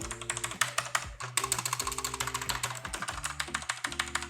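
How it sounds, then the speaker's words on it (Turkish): Rapid clicky typing on a mechanical keyboard with blue switches, crisp sharp keystrokes in quick irregular bursts, close and distinct. "Mekanik klavyenin bize hissettirmiş olduğu ses seviyesi bu şekilde."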